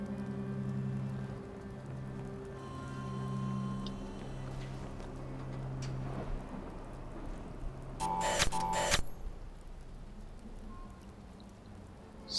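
Rain falling outside in the video game Watch Dogs, a continuous soft patter under a low tonal game hum, with a brief burst of sharper noise partway through.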